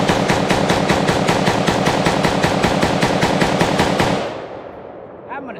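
A T91 rifle fed from a different magazine fires a long, steady automatic burst for about four seconds, loud and close, then stops with a ringing echo tail.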